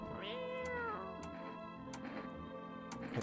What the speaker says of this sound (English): Pet the cat first.